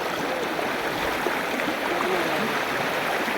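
Floodwater rushing after rain near Mahuva in rural Bhavnagar, a dense, steady roar of fast-moving current heard close and loud throughout, with no voices.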